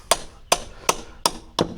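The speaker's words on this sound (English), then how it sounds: "2-pound hammer" Five sharp, evenly spaced blows of a 2-pound hammer knocking apart rotten wooden porch boards, each a hard woody crack with a short ring, close and loud with no talking.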